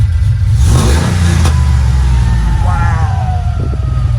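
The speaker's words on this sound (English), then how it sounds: "Can one of you guys rev it up for me a little bit?" A car with a rear-mounted turbo revs up close and loud, climbing to a roaring peak and then dropping back to a throaty idle, with a person's voice briefly audible near the end.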